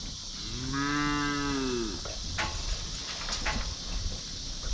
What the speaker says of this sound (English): Go in there with the rest of the cows.